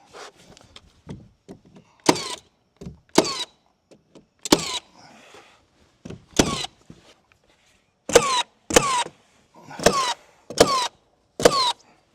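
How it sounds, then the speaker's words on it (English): Nails driven into AZEK PVC exterior trim with stainless steel nails around the perimeter, sharp isolated bangs in an irregular series with gaps between, close and loud, with faint rustling in the pauses. "I'm nailing the perimeter right now"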